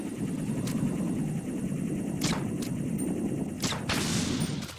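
Gunfire aimed at a Cypher drone in Metal Gear Solid 2, several sharp separate shots cracking out over a constant low rumbling background.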